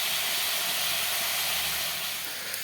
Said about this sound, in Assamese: এতিয়া মাংসখিনি অলপমান ভাজি ল'ব